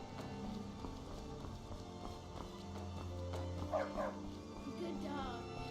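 Dog barks from the video game Skyrim sound in quick bursts amid game ambience and footsteps, fairly faint throughout.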